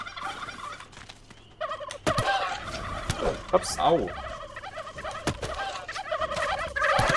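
Turkeys gobble in the video game How to Survive 2, with repeated warbling calls over a busy game soundscape and a couple of brief exclamations from a player.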